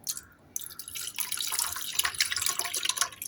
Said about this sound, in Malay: Okey, saya tambah air lagi.